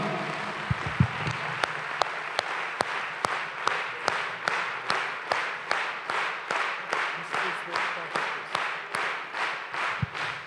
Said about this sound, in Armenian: ամեն Փարսեր ծափարեք տերերի տիրոջն ու արքաների արքային